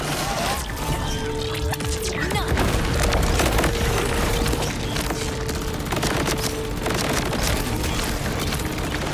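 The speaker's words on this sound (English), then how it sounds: "like throwing grenades in the hopes of hitting something randomly" Grenade blasts in the shooter game Borderlands 4 on PC, a dense run of heavy booms and crackling bursts layered with gunfire and game effects, loud and continuous throughout.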